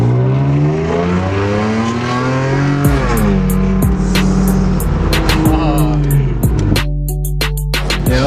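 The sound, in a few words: car engine revving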